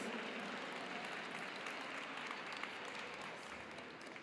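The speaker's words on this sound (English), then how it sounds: "I want you to give yourself a round of applause" A crowd at a city public consultation meeting applauds themselves, a steady, even spread of clapping that sounds faint and distant and lasts throughout.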